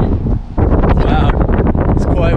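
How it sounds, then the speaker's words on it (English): Strong wind buffets the microphone on the high outdoor platform of the Tallinn TV Tower, a loud continuous rumble with gusts, and someone speaks briefly over it. "Wow, it's quite windy up here."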